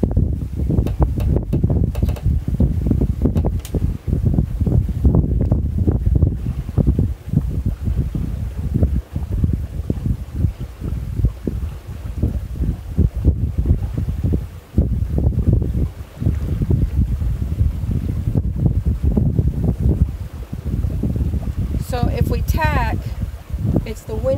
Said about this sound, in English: There's a gust.